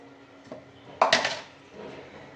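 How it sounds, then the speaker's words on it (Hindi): Dry black chickpeas are poured into an empty metal pressure cooker, a sudden clattering rush of hard grains against metal that rattles briefly and fades, with a small knock just before. "ये देखें, इसमें गए चने।"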